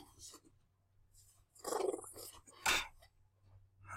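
Dogs barking in a home, a couple of short loud bursts near the middle of the clip over a low steady hum, with a voice speaking before and after.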